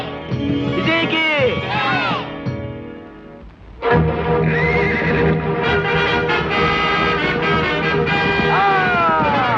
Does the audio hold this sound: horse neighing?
yes